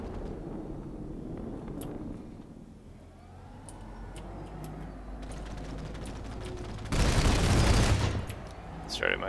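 Rapid aircraft cannon fire in PlanetSide 2 rattles continuously at a steady clip, rising to a louder dense burst near the end over engine drone and game noise.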